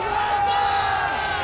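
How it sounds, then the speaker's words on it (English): Dense stadium crowd roaring and cheering in the Cricket 22 video game during an Ashes Test between Australia and England, a loud continuous wall of voices with no break. "The crowd are loving every minute of this game."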